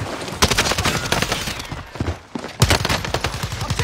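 Video game gunfire in a tense multiplayer shooter match, with bursts of rapid automatic shots and sharp single cracks, loud and close, broken by a short lull before a fresh volley.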